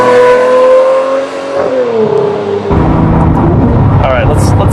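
A Lamborghini Murcielago LP640 accelerates hard on an open highway, its engine rising in pitch through a gear and then roaring on loud and close, with a person talking over it.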